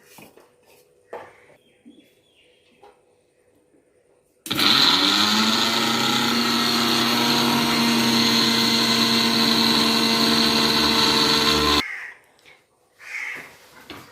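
A mixer grinder whirs loud and close, grinding spices with salt for mango pickle in one continuous steady run of about seven seconds, with quiet kitchen sounds before and after.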